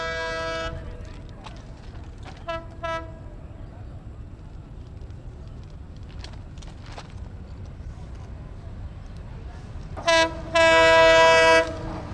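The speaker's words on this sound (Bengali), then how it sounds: "ঢাকা থেকে উত্তরবঙ্গের ট্রেন যাচ্ছে গাজীপুরে" A train crosses a railway bridge over the Turag river in Gazipur, sounding a short horn blast, a few brief toots, and then a long, loud blare, with the steady rush of strong wind underneath.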